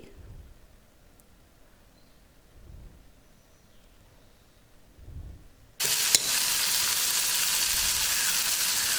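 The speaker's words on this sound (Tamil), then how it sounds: "நல்லா ஒரு பொன்னிறமாக வர்ற அளவுக்கு நல்லா வதக்கிக்கோங்க" Chopped onions for Tamil-style poori masala sizzle loudly in a hot pan, salted and stirred until golden; the frying hiss starts abruptly after a few quiet seconds with faint stirring, then stays steady and dense.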